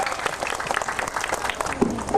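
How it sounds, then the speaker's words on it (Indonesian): Scattered applause for a madihin performance group at an evening entertainment show in Banjarmasin, fairly faint and uneven, with a few louder claps and brief murmurs near the end. "marilah tepuk tangan buat John Tralala Group dan Hendra Wijaya"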